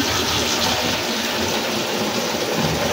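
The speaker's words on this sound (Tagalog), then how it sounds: "Lagyan ko ng tubig yan." Water poured steadily into a cooking pot or container in a home kitchen, a close, continuous splashing gush throughout.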